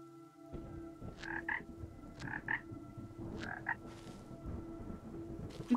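A hopping frog in the video game Ikonei Island gives a series of short, paired croaks over a low musical drone and faint rustling.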